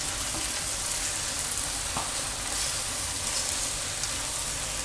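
Fish masala frying in a pan as it is stirred, a steady close sizzle with soft scraping and a small clink, continuous and moderately quiet.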